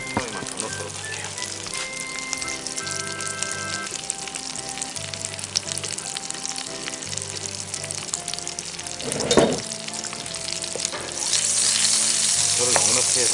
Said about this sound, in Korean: 버터를 넉넉히 해서 마늘 향이 우러나올 수 있도록 구워주도록 하겠습니다.